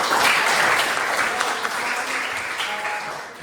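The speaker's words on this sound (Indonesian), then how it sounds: "tepuk tangan tentunya" Steady applause from a classroom of students, a dense even patter of clapping that holds at a fairly loud level throughout.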